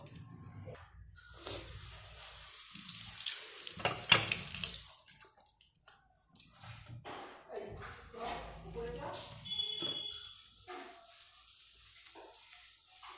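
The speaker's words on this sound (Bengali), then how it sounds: "তো চলো এগুলো এখন আমি তোমাদেরকে ধুয়ে দেখাবো।" Items being rinsed under a running kitchen tap, a steady splashing water noise that comes and goes, with a sharp clink partway through and a voice talking at times over it.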